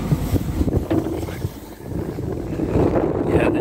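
Gusty wind buffets a boat on a cold, rainy morning, a loud roaring rush with rumbling microphone noise that swells and eases, close and unbroken.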